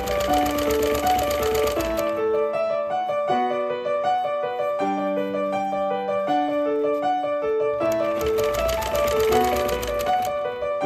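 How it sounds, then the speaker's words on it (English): A sewing machine runs in steady rapid bursts while understitching a bias facing on a neckline, its motor note shifting between short runs of stitching, with no talking. "And we're going to understitch. We're going to stitch right close to here."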